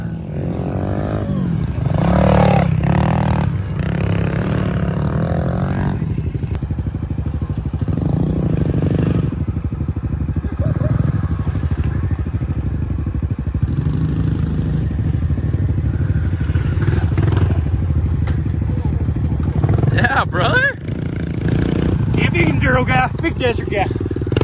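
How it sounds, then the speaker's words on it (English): Small pit bikes ride around a backyard dirt track with jumps in St George, engines buzzing and revving steadily near and far throughout, with clattering and scraping, while people talk over the noise. "Already got the pit bikes out."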